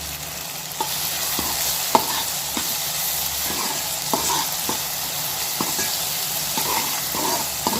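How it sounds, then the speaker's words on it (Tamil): Tomatoes sautéing with salt in a pan for fish curry give a steady close sizzle, broken by clicks and scrapes of stirring every second or so. "இப்போ பாருங்க, தக்காளி நல்லா குலைவாக வதங்கிடுச்சு"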